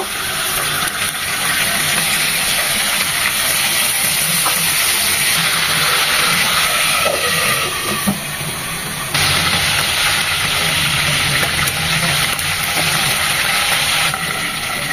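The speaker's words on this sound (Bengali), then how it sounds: "সেম ভাবে বাকি চিকেনগুলো ভেজে নেব।" Chicken pieces frying in a pan with little oil, a loud, continuous sizzle and hiss heard up close, steady for the whole stretch apart from one brief dip partway through, with no voices.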